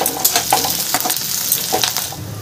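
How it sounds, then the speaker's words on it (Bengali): Chopped onion and slit green chillies fry in a pan with a steady, close sizzle, broken by light scrapes and clinks of a spatula stirring. "এই পেঁয়াজটাকে আমি একটু ভাজা করে নেব।"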